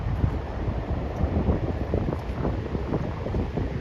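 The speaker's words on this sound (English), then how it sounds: "Yeah, that wind is terrible." Strong wind blows at a beach near a walkway, a constant rough roar of buffeting microphone noise with low rumbling gusts and no voices.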